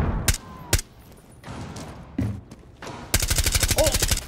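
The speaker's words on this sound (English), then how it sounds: "That was a random shot through the fucking window." Gunfire in the Rainbow Six Siege video game, with a shot fired through a window: a few sharp, isolated gunshots spaced apart, then a loud rapid burst of automatic fire.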